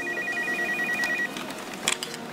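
A telephone rings with a steady electronic tone, repeating trills over a noisy room for over a second, then stops, followed by a brief clatter.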